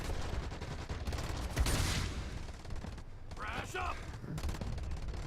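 In Special Forces Team X, a weapon fires through cover in sharp, rapid bursts that come and go over a few seconds, fairly close, with brief talk heard partway through.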